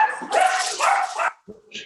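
A dog barks during a Zoom call, two or three sharp close yaps in quick succession followed by softer yips, heard through a compressed online connection.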